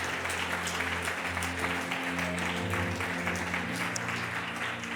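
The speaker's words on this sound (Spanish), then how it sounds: "dale un fuerte aplauso al Señor" Congregation clapping loudly during a Spanish-language church service, a thick continuous wash of applause over sustained background music.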